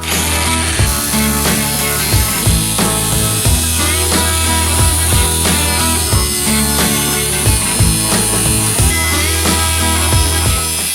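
A notch being cut in the bottom of a stainless steel pergola post: a loud, steady mechanical cutting drone with a regular pulsing rhythm running throughout, close up.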